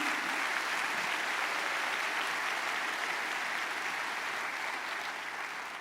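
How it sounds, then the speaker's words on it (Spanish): A church congregation claps loudly and steadily in a dense, sustained wash of applause that continues throughout and tapers only slightly near the end. "dale fuerte ese aplauso a Jesús"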